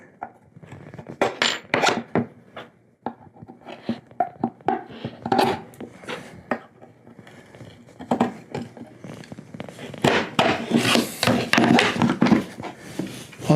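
Metal carriage screws, 1/4 inch by 20, being fed through holes in an O'Brien neck angle jig, giving repeated close knocks, scrapes and clinks of metal on wood in short irregular bursts, with no talking.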